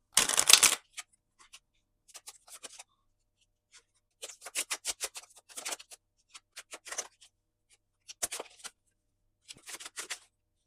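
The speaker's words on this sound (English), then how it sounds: "I'm going to shuffle the cards" Tarot cards riffled and shuffled in several quick bursts with pauses between, close and crisp, no talking.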